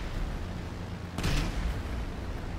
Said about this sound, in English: What was that explosion? That was it shooting at me and it missed.